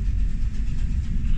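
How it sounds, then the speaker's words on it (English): A heritage steam train running on the line toward Toddington, a close, steady low rumble with a rolling rail texture throughout the short moment, no speech. "we'll see the train turn around"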